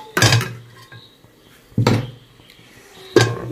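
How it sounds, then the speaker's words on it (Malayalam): Metal cooking pots changed over: three separate loud clanks of metal on metal, spaced about a second and a half apart, each ringing out briefly, close by with no speech. "ഞങ്ങൾക്ക് ദമ്മിടാൻ വേണ്ടി ഈ ചെമ്പ് മാറ്റിയിട്ട് വേറെ ചെമ്പ് വെക്കാം."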